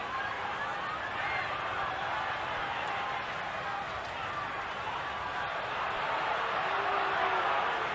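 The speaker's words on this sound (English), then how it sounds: "And the crowd booing, but can't do much about that." A crowd at a 1992 Australian football match between North Melbourne and Footscray boos in a steady, broad roar through the whole stretch, heard at a distance in the stadium.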